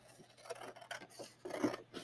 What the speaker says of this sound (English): the student needs to take a scissors and cut each one of these